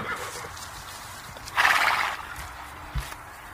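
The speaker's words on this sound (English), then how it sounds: "H. H for horse." A horse gives one bright whinny in the middle, moderately loud against a quiet background, with a soft thump shortly after.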